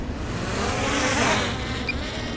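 A drone's propellers whine in a steady, insect-like buzz, close and loud, swelling slightly as it lifts off.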